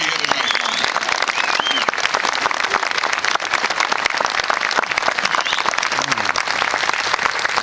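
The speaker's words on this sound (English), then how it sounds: "how about a round of applause to those who have given it all so we can be here tonight" A large crowd at a Louisiana bicentennial kickoff event applauds steadily and loudly in honor of those who gave their lives, dense continuous clapping filling the whole stretch.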